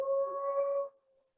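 A single sustained, tonal dog howl sounds clearly and fairly close, holding steady for under a second before fading to a faint tail.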